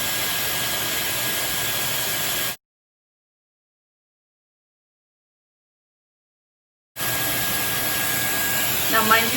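A Dyson Airwrap hair styler blows air with a steady high whooshing whir, running close by, stopping for a few seconds of silence before starting again.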